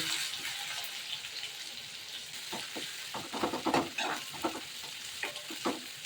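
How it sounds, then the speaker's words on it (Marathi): Onion and asafoetida fry with chana dal in a pan for upma, a quiet continuous sizzle broken by several scraping stirs of a spoon, no talking. "कांद्याला चांगला फ्राय करून घेते"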